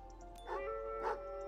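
Wolves in the Preserve video game, two brief yipping calls about half a second apart, soft against a sustained game music background.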